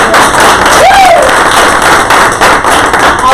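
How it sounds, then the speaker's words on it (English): Audience applause in a wellness event room, a broad wash of clapping from many people that stays steady and fairly loud, with a brief voice-like tone rising over it early on. "Kelly, can we all give her a round of applause?"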